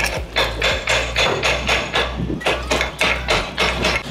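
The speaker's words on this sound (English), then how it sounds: "just to give it a couple of whacks" A hammer whacks a strong iron part in a steady series of about ten hard metallic blows, close and loud, each ringing briefly.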